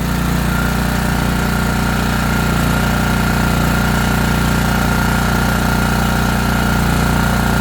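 An ETQ portable generator's engine runs steadily at a constant loud drone with no change in pitch or rhythm, close by, with no voices over it.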